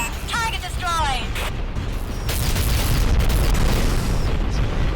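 Targets destroyed in the underwater video game AquaNox, booming explosions rumbling loud and low, with game voices and chirping effects early on.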